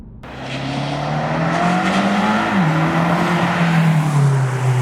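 A 2020 BMW M5 Competition engine hums steadily as the car drives, pitch rising and dipping briefly with gear changes, close and continuous.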